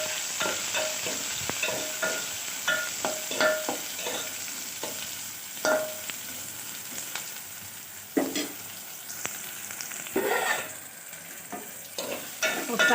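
Onions frying in oil in a pan while being stirred, a soft steady sizzle broken by frequent scraping strokes of a spoon or spatula, close and moderately quiet, with no talking.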